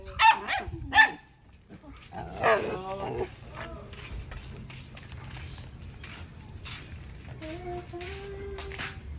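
Dogs bark several times close by at the start and again a few seconds later, then quieter yelps and voices follow over a low background.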